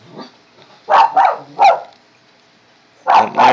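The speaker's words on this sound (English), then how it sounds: "don't mind my dog, he's going crazy" A dog barks loudly and close by, a quick pair of barks, then another single bark, and one more after a pause.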